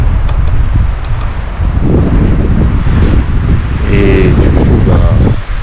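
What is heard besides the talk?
strong wind on high plateau, wind noise on microphone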